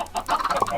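Chickens cluck in a Minecraft chicken farm: a brief burst of overlapping clucks from nearby birds, with no talk.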